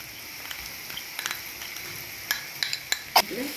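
Jaggery going into bitter gourd frying in a pan, with a low sizzle under a few scattered sharp clinks and scrapes of a spoon stirring against the pan, loudest near the end.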